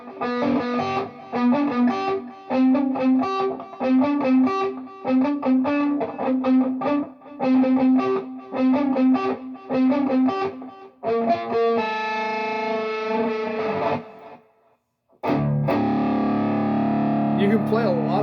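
Electric guitar in drop tuning played through a milder distortion, loud chugging riffs with repeated palm-muted low notes, then sustained ringing chords, a brief gap, and a final crashing chord.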